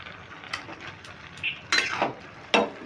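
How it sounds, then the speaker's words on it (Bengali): A spoon stirs fried potatoes into a cabbage and fish head curry in a pan, giving soft scraping strokes and a few sharper clinks against the metal, fairly close and quiet. "আলুগুলো ভালো করে মিশিয়ে নিচ্ছি।"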